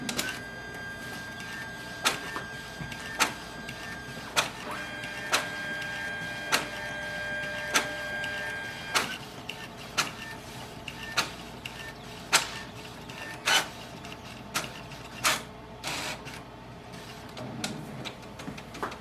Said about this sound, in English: So press it once and it will start the copy process.